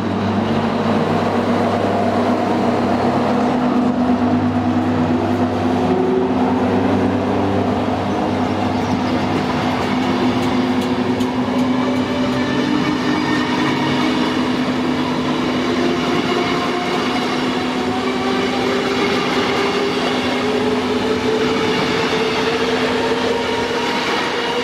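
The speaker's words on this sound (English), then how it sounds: "BB15065 prepares to depart with an early morning train from Paris to Rouen" Electric locomotive BB15065 pulls away with an early morning Paris to Rouen train, a loud sustained electric hum and rumble with rising motor tones and faint wheel noise, no voices.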